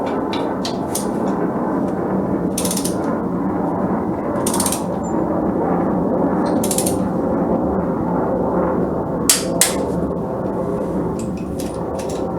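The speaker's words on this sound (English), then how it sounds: "now that the bars are installed, time for the torques." Torque wrench clicking as crash bar bolts are tightened on a 2019 Honda CB500X, with repeated sharp ratcheting clicks in bursts over a steady background hum, close and fairly loud, no talking.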